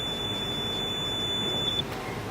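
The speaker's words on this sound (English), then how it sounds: "The high voltage makes the buzzer louder." A thin, high electronic buzzer powered by lemon batteries at over 3 volts sounds steadily for about two seconds, then cuts off, leaving a soft background hiss.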